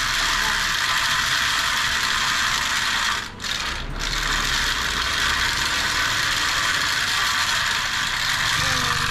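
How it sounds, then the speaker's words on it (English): A hemp fibre spinning machine prepares threads with a loud, continuous mechanical whirring and ratcheting clatter of gears. It runs steadily throughout, with one brief dip in the middle. "The fibres then go through a complex procedure of spinning on a special spinning machine to prepare threads"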